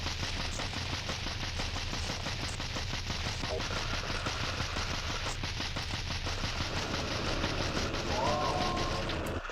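Rapid automatic gunfire rattles continuously in a Monster House video game, a dense stream of shots with a brief electronic tone near the end.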